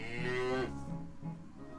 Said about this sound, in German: Da hat die Kuh gemut.